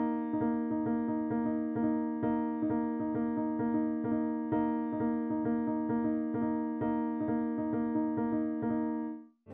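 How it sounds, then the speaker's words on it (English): A 6-5 polyrhythm: two interlocking streams of evenly spaced pitched pulses, one beating six against the other's five, repeating steadily and softly for several seconds before stopping abruptly. "The last one I will teach is the 6-5 polyrhythm that sounds like this."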